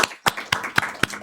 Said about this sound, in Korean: 우리 바울 목사님께 감사의 박수를 한번 드리고 싶습니다